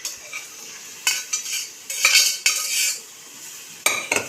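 A spoon mashes soft boiled lima beans into cooked onions in a pan, making several scraping and clinking strokes with brief pauses between them, close and clear with no talking.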